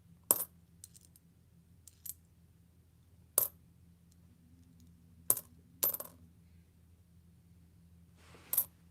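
Australian two cent coins clink and drop in a quiet room, six sharp metallic clicks spaced irregularly over a low steady hum.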